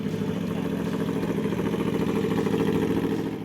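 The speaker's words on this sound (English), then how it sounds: "Fire it up once, hear that unforgettable V4 soundtrack" An Aprilia Tuono V4 motorcycle engine runs close and steady with a rough, throbbing idle that holds evenly throughout, heard alone without talk.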